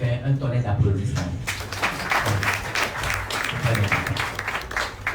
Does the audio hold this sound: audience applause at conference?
yes